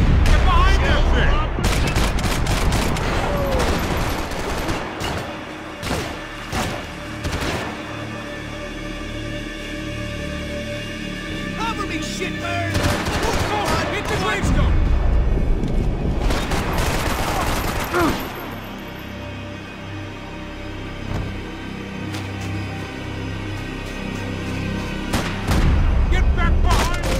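Gunfire in Max Payne 3, dense sustained volleys of automatic weapons and heavy booming shots, loud and continuous throughout, with shouting voices mixed in among the shots.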